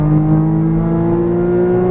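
A Porsche Cayman GTS pulls hard on a race track, its engine note a strong, steady drone of tonal harmonics climbing slightly as it accelerates, loud and close from the cabin with no talk over it.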